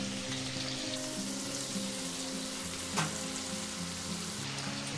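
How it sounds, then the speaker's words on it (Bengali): Potatoes fry in oil in a pan for a foli fish curry, producing a quiet, even sizzle that runs throughout with a single faint tap near the middle. "আলুগুলো একটু ভালো করে ভেজে নেব।"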